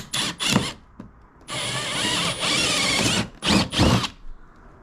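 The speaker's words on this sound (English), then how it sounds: "And all we'll do is just drill through here," A cordless combi drill whirs in short bursts, then bores steadily through timber for nearly two seconds before a few more quick revs; close and loud.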